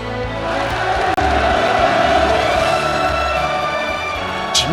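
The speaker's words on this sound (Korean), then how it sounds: "우렁찬 만세 환호성이 하늘 땅을 진감했습니다" A dense crowd roars with sustained cheering and shouts of "manse" as Kim Jong-un arrives at a mass political gathering, a loud, continuous wall of voices with no pause.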